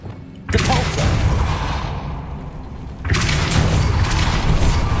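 In Hogwarts Legacy the Incendio fire spell is cast on a cobweb: two loud whooshing fire bursts, each a booming roar that swells and holds before easing, heard close with no talk.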